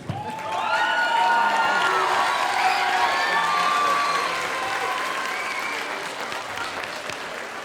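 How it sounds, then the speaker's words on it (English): Sustained audience applause with scattered cheers fills a room at a spring arts festival concert, loud and steady throughout before easing slightly toward the end. "Come on, let's clap him down."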